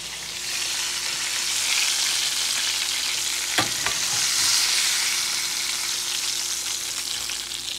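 Fish frying in hot oil sizzles loudly and steadily, with a brief scrape and clink of a spatula lifting it from the pan midway through.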